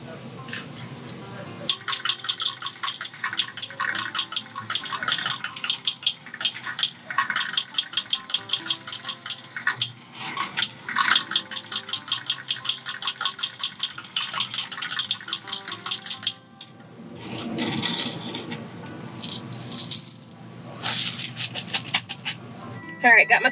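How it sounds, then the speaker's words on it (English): Quarters from a car wash change machine clatter and jingle into a metal tray in a long, busy stream of bright metallic chinks, close and loud, with a few short pauses. "Just that ching, ching, ching, ching, ching of all the change."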